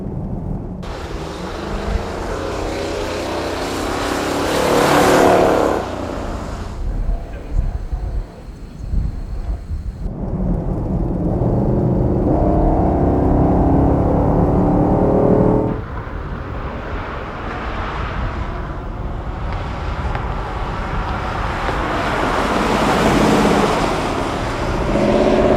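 Hemi V8 in a stock 1969 Dodge Daytona wing car with original resonators under it, at a car show: loud, rumbling engine revs that swell and drop in long bursts, close by, with no talk.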